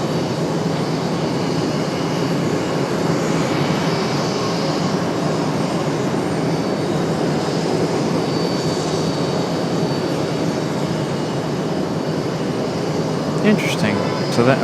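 An aircraft lands on runway 5 right at Raleigh-Durham airport, a broad, steady engine roar heard from a distance that holds level throughout, with a faint voice and a few clicks near the end.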